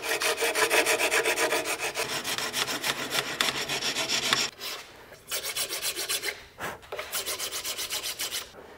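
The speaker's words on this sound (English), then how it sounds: "I'm going to go back to my fine rasp and keep these sides symmetrical as well." A fine rasp files the edge of a fiberglass bow limb in fast, even back-and-forth strokes, a continuous scratchy rasping that pauses briefly twice before resuming at the same rhythm.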